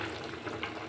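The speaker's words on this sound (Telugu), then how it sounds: "సేమియా వేసి ఒకసారి కలుపుకోవాలి." Vermicelli being stirred through a pan for upma, a brief faint sizzling rustle with soft scraping, no voices.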